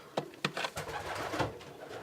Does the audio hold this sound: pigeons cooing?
yes